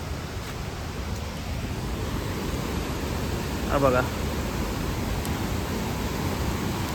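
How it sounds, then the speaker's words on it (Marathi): Napne waterfall in Konkan, swollen with monsoon rain, sends out a constant broad roar of rushing water. A voice speaks briefly partway through. "नादवडे नाही सॉरी, नापणे धबधबा"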